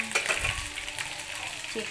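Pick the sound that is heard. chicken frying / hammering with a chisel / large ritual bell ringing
chicken frying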